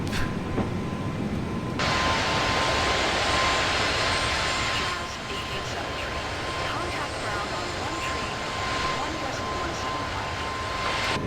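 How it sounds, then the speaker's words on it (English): Airbus A320 climbing after takeoff in Microsoft Flight Simulator, a continuous broad engine roar with a steady tone running through it, loud and unbroken, easing slightly partway through. "And we are airborne. Positive rate, gear up."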